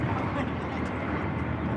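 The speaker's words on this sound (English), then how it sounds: "As soon as this plane goes by." An airplane passes overhead during a Major League Quidditch match between Boston Forge and Charlotte Aviators, producing a steady, loud, broadband roar that covers the whole stretch with no break.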